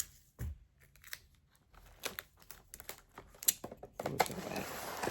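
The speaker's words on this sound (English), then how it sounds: "put a little tape on them" Short strips of tape are pulled, torn and pressed onto small pieces in quick, uneven bursts of crinkling, ripping and tapping, close and fairly quiet.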